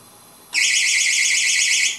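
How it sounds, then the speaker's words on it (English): A small battery-operated power-return alarm abruptly starts a shrill, warbling tone that holds steady for about a second and a half over a faint background hum. "it's a little battery operated alarm"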